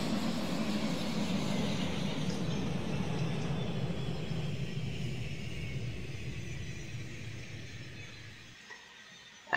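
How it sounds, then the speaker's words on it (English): The jet engines of a Tupolev Tu-144S in the Roblox game Aeronautica spool down: a broad, steady roar slowly fades over several seconds, then drops away sharply near the end. "turn off the engines"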